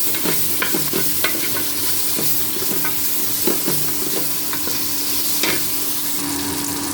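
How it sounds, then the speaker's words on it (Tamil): Sliced large onion frying in oil for egg biryani, a dense, close sizzle punctuated by repeated clinking, scraping stirs against the pan. "இப்போ ஒரு பெரிய வெங்காயத்தை நீல வாக்கில் கட் பண்ணி சேர்த்துக்கோங்க."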